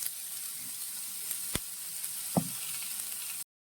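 Ivy gourd (kovakka) tipped into a hot pan sets off a steady, close frying sizzle with a couple of sharp clatters from the pan, then cuts to silence at the end.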